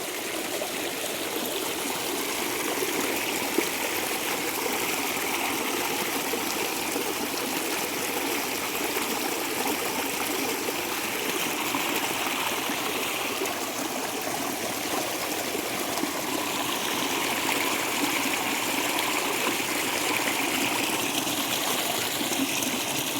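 Floodwater streaming off a field in a continuous, even rush and gurgle, close and steady throughout with no pauses and no voices.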